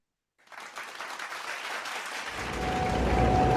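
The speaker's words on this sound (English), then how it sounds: "let's welcome their couple with a round of applause" Applause at a blessing candidates meeting welcoming a couple begins after a moment of silence, building steadily, with a low rumble and a faint tone joining in as it grows louder.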